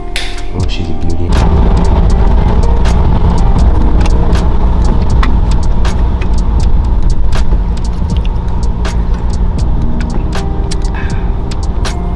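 A car drives along with a steady, loud low road and engine rumble, overlaid by frequent sharp clicks and knocks from a camera being handled close by.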